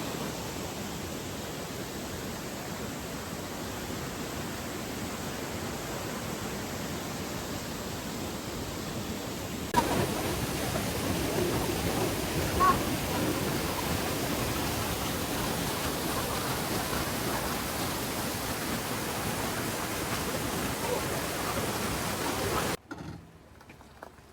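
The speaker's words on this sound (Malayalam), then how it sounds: "നമ്മൾ വെള്ളച്ചാട്ടത്തിന്റെ ടോപ്പിലെത്തി കേട്ടോ" Steady broadband rush of falling water from the top of a waterfall in Nilambur, Kerala, fills the clip, growing slightly louder partway through, then cutting off abruptly near the end.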